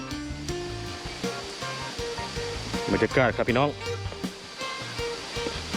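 Saeng Chan waterfall in Ubon Ratchathani during the rainy season, a steady rushing roar of falling water heard beneath someone talking close by.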